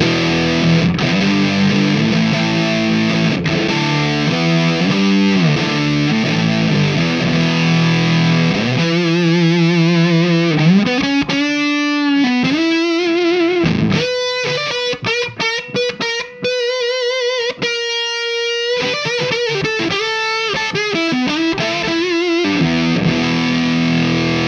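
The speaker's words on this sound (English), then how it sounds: "So this is a silicon fuzz face." Electric guitar played through a silicon Fuzz Face fuzz pedal, giving thick, distorted chords that turn into sustained, saturated single notes and bends, loud and steady with no talking.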